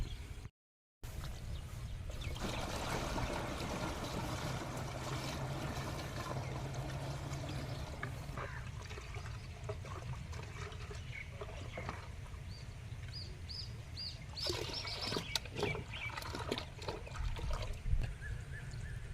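Water pours steadily into a farm pesticide sprayer tank, a continuous splashing trickle with some sharper clinks and sloshes toward the end, fairly close and heard alone.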